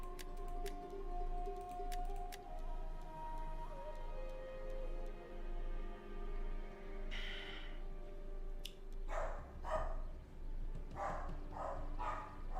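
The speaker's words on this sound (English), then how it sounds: "my dog barks a lot" A pet rescue dog barks indoors, several short sharp barks in bursts toward the end, moderately loud over a steady background hum and faint ticking.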